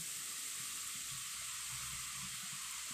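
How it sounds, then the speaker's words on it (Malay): Crab sticks fry in oil over medium heat with a soft, even hiss and faint crackling, quiet and continuous throughout. "Dan goreng di atas api yang sedang"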